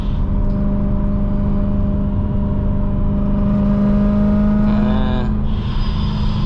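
A supercharged (Procharged) BMW M3 running about 2.5 psi of boost drones steadily while driving on fuel it dislikes, a loud, close, even engine hum whose pitch shifts and wavers near the end.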